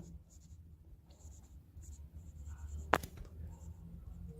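Pen or chalk writes out a physics question, a quiet scratching stroke with a brief sharp tap near the end, while a soft voice speaks faintly in the background.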